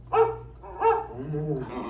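An animatronic dog on Walt Disney's Carousel of Progress ride at Magic Kingdom barks twice with short, nearby yaps, followed by a softer whining, drawn-out vocal sound.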